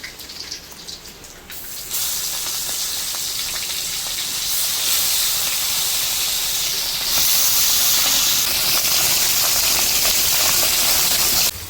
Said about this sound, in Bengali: কড়াইয়ের তেল গরম হয়ে গেছে, এখন দিয়ে দেবো আমি